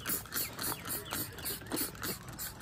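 A spray bottle of cleaner is pumped repeatedly on a Wheel Horse mower, giving a rapid, even series of about eight short hissing squirts close to the microphone.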